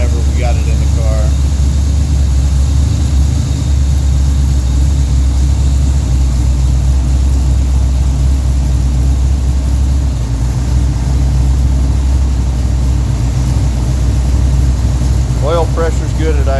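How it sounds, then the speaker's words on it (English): A 1967 Pontiac GTO 400 V8 idles loud and steady at close range, a deep continuous rumble with someone talking over it throughout. "The idle's starting to speed up on this thing because the engine's loosening up a little bit since we've been running it."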